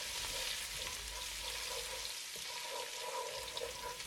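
About 1.5 tablespoons of chopped garlic sizzles steadily in a hot pan, a dense continuous frying hiss heard up close with no voices.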